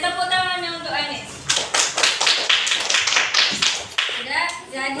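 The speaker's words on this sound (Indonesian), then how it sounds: "Tepuk tangannya untuk Anies." A class of third-grade elementary pupils claps together in a brief burst of applause for a classmate, dense and close, with a teacher's voice speaking before and after.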